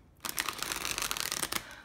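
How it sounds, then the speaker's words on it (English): An indie tarot card deck is shuffled up close, giving a quick dense flutter of riffling card snaps that lasts just over a second, then stops, with no talking. "So I'm just going to give the cards another quick shuffle."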